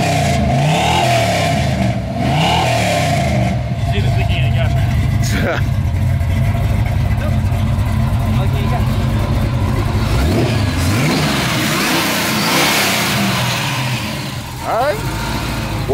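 A 1967 Chevrolet Nova Sport Coupe V8 with long-tube headers, an H-pipe and Flowmaster mufflers rumbles at idle and revs up several times. The exhaust is loud and close, with people talking over it at times.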